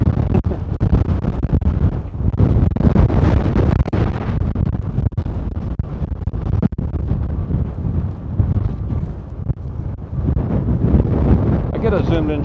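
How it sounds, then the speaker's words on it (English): Strong coastal wind buffets the microphone at SpaceX Starbase in Boca Chica, Texas, a constant low roar with sharp gusting thumps throughout, while a voice talks faintly underneath. "Too windy."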